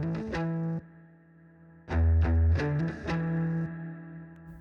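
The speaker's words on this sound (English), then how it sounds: "That's a really cool kind of surfy reverb sound." Electric guitar through an amp with a surfy spring-style reverb and effects, played as several strummed chords and notes with long ringing tails, fairly loud and alone.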